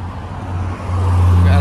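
A Porsche GT4 with a naturally aspirated 4.0 engine roars close by, its low steady drone building louder toward the end of a short burst, with some background noise and no clear voices.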